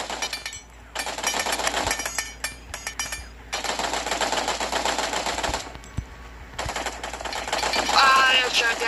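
Rapid automatic gunfire from the LifeAfter video game crackles loudly and almost without pause, in long bursts broken by brief gaps. A faint voice can be heard underneath.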